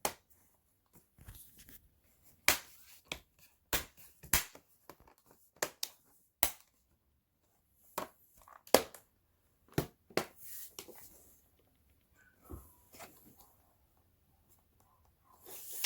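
Scattered sharp clicks and snaps, irregularly spaced with quiet gaps between, close up, as plastic clips of an ASUS G751JT laptop case snap into place.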